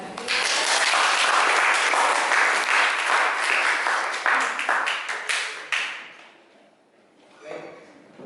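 Dense audience applause at a seminar on comparing fertilizers fills the first six seconds. It breaks into scattered claps and fades away, then a brief murmur of voices follows.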